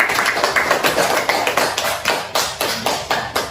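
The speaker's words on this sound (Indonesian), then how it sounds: "silakan berikan aplaus untuk Fatika" A classroom audience applauds with a quick run of sharp, evenly spaced claps that carry on steadily throughout.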